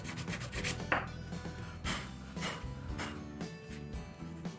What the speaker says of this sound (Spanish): a darle un acabado a la orilla con la lija